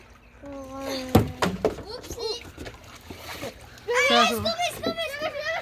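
Children splash in a backyard swimming pool on a warm day, short bursts of sloshing water close by, mixed with excited kids' voices and adult talk.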